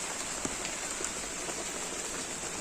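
Rain falls steadily onto surfaces, a constant dense hiss with scattered nearer drop taps throughout, no voices.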